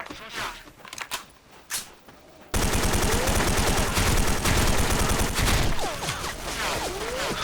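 Rapid bursts of sniper rifle and automatic gunfire in a first-person shooter video game, loud and dense after a short stretch of sparse sharp shots, continuing steadily to the end.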